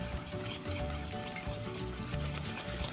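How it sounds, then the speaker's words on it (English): Crepe batter is whisked by hand in a bowl, a continuous wet scraping and rubbing with a steady stirring rhythm, close and fairly quiet, alone without talk. "you just have to keep mixing until there's no more lumps and the mixture is nice and smooth"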